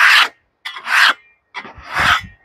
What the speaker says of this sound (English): I can't scrape this onto that other log, or I'm going to get metal all over it.